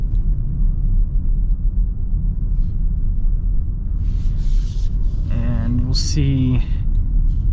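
Genesis GV70 3.5T twin-turbo engine accelerating in Sport Plus mode, a steady low rumble under cabin talk, with a brief rising whoop of excitement near the end.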